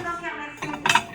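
Dishes and tableware clink briefly in a store's tableware aisle, with a few soft knocks and then a brighter cluster of clinks near the end, quiet and close over faint background.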